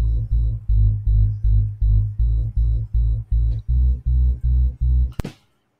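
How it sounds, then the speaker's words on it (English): A looped sub bass line from a music track, loud and alone, pulsing in about a dozen even, deep throbbing hits before stopping abruptly with a sharp click and silence. "And the one that I found was the sub bass."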